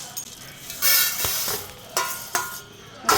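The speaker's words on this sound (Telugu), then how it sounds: "డ్రై రోస్ట్ మంచి ఇట్లా సిమ్లో పెట్టి చేసుకుంటే మంచి స్మెల్ వస్తుంది" Dal dry-roasts in a pan over a low flame, soft stirring scrapes and faint sizzling with a few sharper clinks, fairly quiet and without talk.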